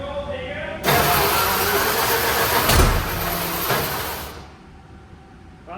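A Centurion ARV armoured recovery vehicle's engine cranks over with no throttle during fault finding, a loud, close, steady churning roar that swells briefly, then fades and cuts off, leaving a quiet tail.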